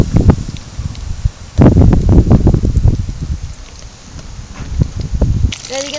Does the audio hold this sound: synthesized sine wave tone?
no